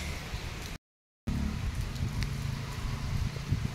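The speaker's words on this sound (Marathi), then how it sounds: "तर पाऊस वातावरण आलं त्यामुळे पाऊस आला" Rain falls steadily at a rural home where a cow is kept outside, a broadband hiss throughout, interrupted by a brief dropout before the hiss resumes.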